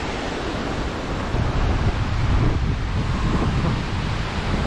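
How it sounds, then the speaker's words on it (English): Wind roars steadily through a snowstorm at Bellamy Harbor Park, a dense broadband rush with gusts that swell partway through, close to the microphone and with no voices. "it is blowing and snowing"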